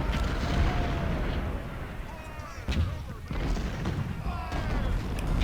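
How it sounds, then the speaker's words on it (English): Parrott gun artillery batteries fire in Ultimate General: Civil War at the Battle of Stones River, heavy booms rolling repeatedly under a steady din of battle, with a voice talking over it. "this battery of Parrott guns can focus on Scott"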